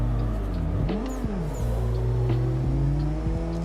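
Drift car in Assetto Corsa howls at steady high revs with a dense engine drone, the pitch dipping and swooping briefly as the throttle lifts and comes back, loud and close throughout.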